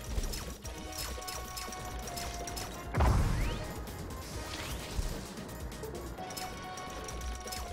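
Bomb exploding in an ESL Finals video game match, a single sudden heavy crash with a short rumbling tail amid busy game sounds and music.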